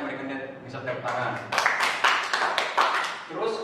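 Students in an Indonesian classroom give a short burst of clapping for a classmate, with a teacher talking over and around the applause.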